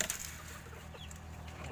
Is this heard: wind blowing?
no